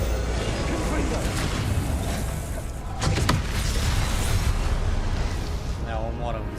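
A Confringo fire spell explodes in the Hogwarts Legacy video game, a loud broadband blast near the middle that sits inside dense, continuous game noise and voices.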